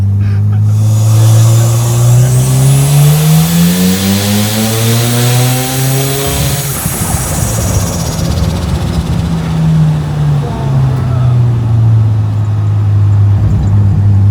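A Mazda FC RX-7 rotary engine, rebuilt after a fire, revs hard and climbs steadily toward its high limit, then drops back and settles into a lower, rough idle. The engine is loud and close.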